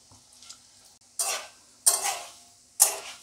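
Chire, flattened rice, being stirred and fried in a pan, with three distinct bursts of scraping sizzle at roughly even intervals after a quiet start, close and fairly loud, with no talking.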